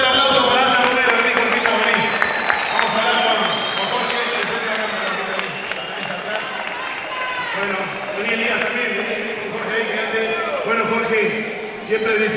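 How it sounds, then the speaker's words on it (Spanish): Crowd clapping after a boxing fight at an anniversary fight night, steady applause that gradually fades, with a voice talking over it. "Fuerte el aplauso."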